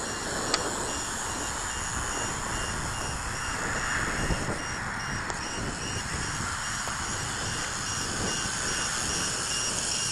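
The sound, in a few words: low voltage cutoff alarm beeping on Kai Deng K70C drone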